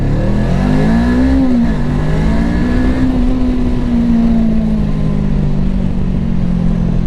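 A Voge 500DS twin-cylinder 500 cc motorcycle pulls hard in second gear, its engine loud and close with a rising, then steady droning pitch heard from the rider's position.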